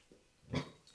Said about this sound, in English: Someone just came home, so my dog lost his shit.